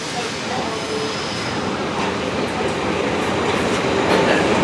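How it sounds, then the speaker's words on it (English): A Great Western Railway service from Exmouth pulls into Paignton station, a steady loud rumble of wheels and carriages rolling in close by with a faint squeal. "coming in now to 1553 Great Western Railway service from Exmouth"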